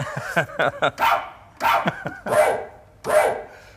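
A Chihuahua yaps rapidly several times, then lets out three longer, higher barks with short gaps between them, close and clear, played as a sample on a Simmons electronic drum kit.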